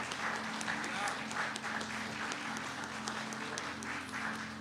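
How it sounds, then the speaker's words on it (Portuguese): A church congregation at a Mother's Day service applauds the mothers, steady faint clapping spread through the room, with talking running over it. "Eu gostaria de pedir que você aplaudisse as mamães aí, dê uma salva de palmas."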